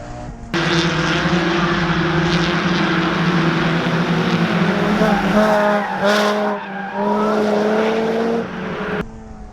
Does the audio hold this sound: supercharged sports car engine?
yes